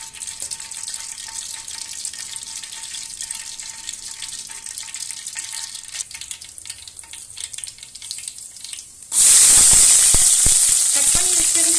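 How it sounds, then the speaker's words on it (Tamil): Fenugreek seeds dropped into hot oil in a pan for a village-style fish curry; a quiet low crackle gives way to a sudden loud, steady hissing sizzle with sharp pops, close and alone. "கொஞ்சம் வெந்தயம் எடுத்து போட்டுக்கலாம்"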